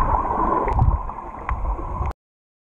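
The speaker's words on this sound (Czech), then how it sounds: "Krásně čistá řeka tady na Lomboku." A clean river on Lombok flows nearby, making a close, steady gurgling rush with a few small splashes before it cuts off suddenly.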